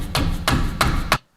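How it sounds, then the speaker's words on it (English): A hammer strikes a seized nut on the sway bar drop link of a Mitsubishi L200, four loud, close metallic blows at an even rhythm, then silence. "I'm using a hammer here to undo the nut"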